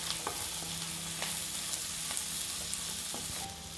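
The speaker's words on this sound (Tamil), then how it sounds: "வெங்காயம் போட்டு நல்லா வதக்கிக்குவோம்." Onions sautéing in a pan with green chillies and garlic for rava kitchadi, a steady close sizzle and fry with occasional stirring scrapes throughout, no talking.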